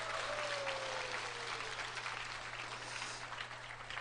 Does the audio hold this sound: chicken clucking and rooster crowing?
no